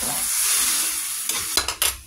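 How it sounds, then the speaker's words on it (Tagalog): Hot water broth poured onto shrimp in a cooking pot while making sinigang na hipon with kamyas, a steady close sizzling hiss followed by a few sharp splashy bursts near the end. "Lagyan natin sabaw, mainit na tubig."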